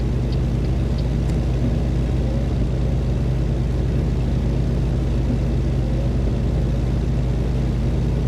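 Steady low truck engine drone in American Truck Simulator, a continuous even rumble with no changes in pitch, no voices.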